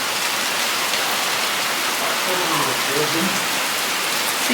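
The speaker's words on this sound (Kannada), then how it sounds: "ಸಿಕ್ಕಾಪಟ್ಟೆ ಮಳೆ ಬರ್ತಾ ಇದೆ." Heavy rain pours outside a house near a balcony, a steady, dense hiss that holds at an even level from start to finish.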